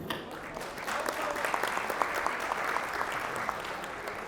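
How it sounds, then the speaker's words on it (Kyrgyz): Guests at a festive family gathering for a 55th anniversary clap together in sustained, moderately loud applause, a dense patter of many hands with scattered sharper claps. "Кол чабалар, урматтуу туугандар"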